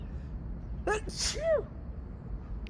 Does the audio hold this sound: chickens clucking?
no